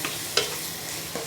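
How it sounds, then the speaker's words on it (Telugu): Brinjal, potato and capsicum curry with spice powder stirred over high heat, a steady sizzle with a few sharp spoon scrapes against the pan. "బాగా హైలో పెట్టేసి బాగా కలపాలి"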